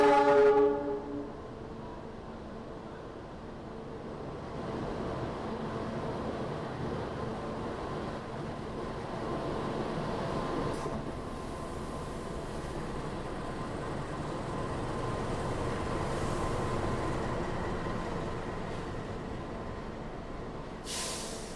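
A Supas local commuter train running from Surabaya to Pasuruan arrives at a station with a steady rumble of wheels and cars rolling in, opening with a brief horn blast and building gradually.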